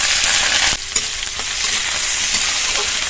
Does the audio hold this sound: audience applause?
no